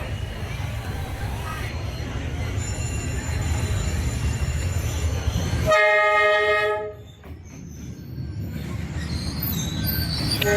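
A train rolls through Hanoi's narrow train street with a steady rumble of wheels, then a loud sustained horn blast and squealing wheels as it passes close by.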